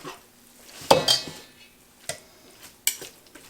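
Meat forks shred cooked pulled pork, giving a few sharp metallic clinks and scrapes against a dish, spaced out irregularly with quiet between them.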